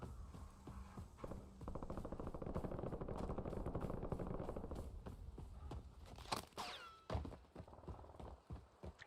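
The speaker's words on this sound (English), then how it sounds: "we're getting sniped from somewhere" Gunfire in the Warzone battle royale video game, a steady rapid stream of shots lasting several seconds followed by scattered louder cracks and impacts, with no talking.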